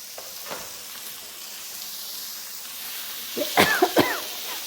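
A woman coughs several times, close and sharp, from the smoke of spice tempering while cooking a radish sabzi, with faint sizzling from the pan underneath.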